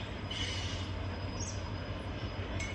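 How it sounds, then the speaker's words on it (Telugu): A train, apparently a goods train, rumbles past near a railway station close to a temple in Hyderabad, a steady broadband roar with faint wheel squeal running the whole time and no voices. "ట్రైన్ కూడా పోతుంది తయానికి."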